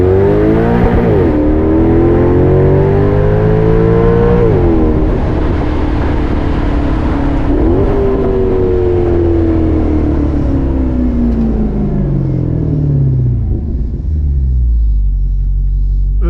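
A Maserati GranTurismo engine, warmed up, revs hard and loud, pitch climbing and dropping through several surges, then settling into a deep idle rumble near the end.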